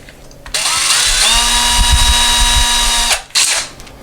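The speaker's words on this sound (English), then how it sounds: "when we put our drill on that hole and drill very slowly" A small-bit power drill boring holes into a wall for a hand towel ring, a steady high whine running about two seconds after a brief start, close and loud, with no talking.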